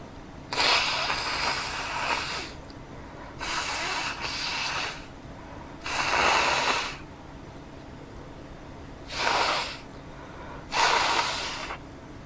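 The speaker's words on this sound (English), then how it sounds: "Gotta blow my nose again." Someone blows their nose in five separate honking bursts spaced a few seconds apart, close by, with quiet gaps between.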